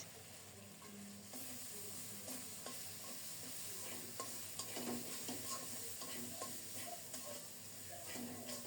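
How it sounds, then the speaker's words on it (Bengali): Turmeric and chili spices sautéing with a splash of water in a pan, quiet sizzling with repeated scraping stir strokes throughout, no voices. "মশলাগুলো আরও ভালোভাবে কষানোর জন্য অল্প করে জল দিয়েছি"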